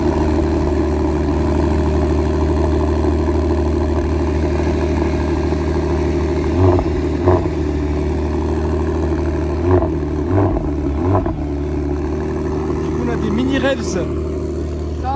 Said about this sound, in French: on va en profiter pour voir un peu la F80 démarrer